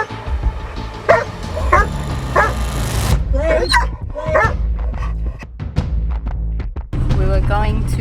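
A skinny, bleeding stray dog found on a street in Lebanon barks and whimpers in sharp repeated bursts, close and loud, with people's voices mixed in around the yelps.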